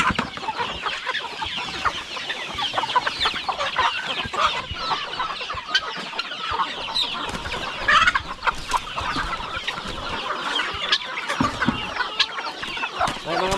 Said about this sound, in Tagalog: napakarami na po sa ating mga manok dito